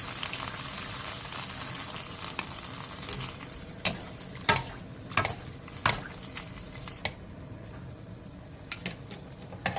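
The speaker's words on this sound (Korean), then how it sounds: "그 다음 멸치 육수 1컵 반을 넣고 센 불에서 끓여주세요." Anchovy broth boiling over high heat in a pot, a steady bubbling hiss with scattered sharp pops and clinks, moderately quiet and without voices.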